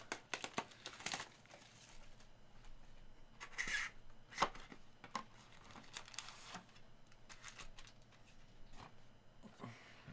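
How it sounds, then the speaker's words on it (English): Trading cards from a 2022 Diamond Kings baseball pack being shuffled by hand, quiet irregular snaps, flicks and rustles in a close, faint recording. "good luck with the gas station casino shuffle"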